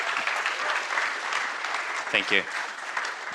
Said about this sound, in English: give me a welcome round of applause